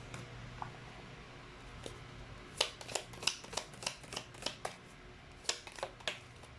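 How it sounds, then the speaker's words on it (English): Tea leaf fortune cards being shuffled in a quick series of crisp riffling flicks and taps, close and fairly quiet against a soft room hush. "Let's pull up the tea leaf fortune cards now"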